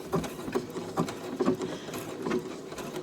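A sewing machine stitches raw-edge applique onto Christmas quilt fabric in short, rhythmic bursts of close, rapid needle chatter, with no voices.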